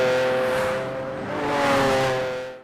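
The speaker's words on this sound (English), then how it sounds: "At number 3, we've got the 2017 Lamborghini Aventador S, and this is where Italian passion meets insane performance" A 2017 Lamborghini Aventador S engine revs loud and close, a sustained rising and falling tone with strong steady harmonics and no voices.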